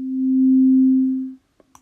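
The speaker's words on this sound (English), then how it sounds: "which is a sine wave" A steady pure sine tone from an oscillator on the miRack modular synth, used with a Tact-1 controller, holds for over a second and cuts off, followed by a couple of faint clicks.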